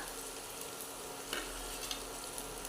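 Green chillies and tomatoes sauté in a pan with a soft, continuous sizzle and a couple of faint stirring clicks.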